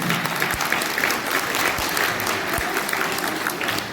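Guests at a wedding ceremony at a hotel in Denizli applaud steadily for a few seconds, a dense, even wash of clapping from a sizeable crowd at close range.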